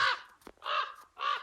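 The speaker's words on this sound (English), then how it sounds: "gotta chase that crow away" A crow caws three times in a steady series of loud, harsh calls outdoors in a garden near a stream and pond, each caw long and close with short pauses between.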